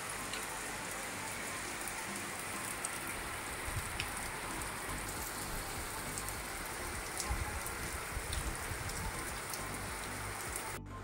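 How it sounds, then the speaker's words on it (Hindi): Steady rain falling, a dense continuous patter of drops on surfaces, soft and even throughout with no voices. "दो चार दिन से ना काफ़ी बारिश हो रही है"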